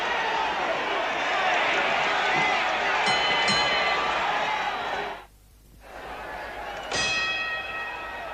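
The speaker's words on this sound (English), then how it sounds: "The bell has sounded for round 6" A boxing ring bell rings out at a professional heavyweight bout, a couple of metallic clangs over loud arena crowd noise, with a second ring after a brief drop in the roar.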